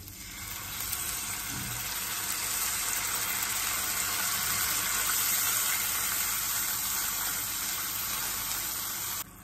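A steady broad sizzling hiss rises from rasgulla curry masala in a pan as water is added, continuous and moderately loud without pause.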